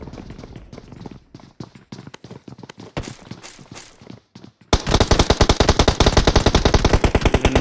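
Gunfire in the mobile battle-royale game BGMI: scattered single shots and short bursts, then a loud, rapid sustained automatic volley to the end.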